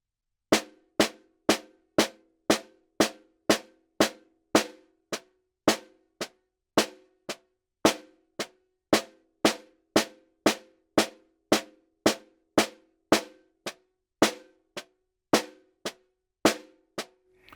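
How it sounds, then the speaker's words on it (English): Snare drum played alone, close and crisp: a long, steady run of evenly spaced single rebound strokes, roughly two per second, with a few strokes landing a touch harder on the downbeats. "a measure of just plain rebound strokes, and then we'll go into a measure of bucks with the accent on the downbeat."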